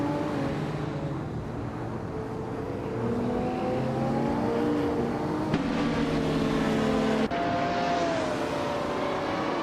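Race cars in a driving game, including a 2015 McLaren 675 LT, roar off the starting line together, engines droning and rising in pitch as they accelerate, loud and continuous with no talk.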